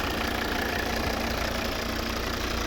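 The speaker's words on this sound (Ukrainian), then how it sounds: "Ось робота двигуна. Тихенько рівно працює." A 2013 Volvo V60 2.0 D4 diesel engine idles steadily nearby, a dense, even rumble with a faint rhythmic knock and no voices.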